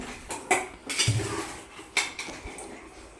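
A metal spoon clanks and scrapes inside a pressure cooker as chicken biryani made with Ponni rice is stirred, with a few sharp knocks over softer rustling and no talk.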